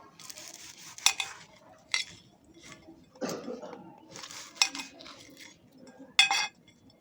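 A knife cuts through an egg paratha on a plate with scattered scraping, clinking strokes of metal on dishware, close and intermittent.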